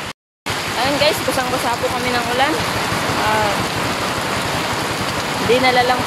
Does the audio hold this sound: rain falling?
yes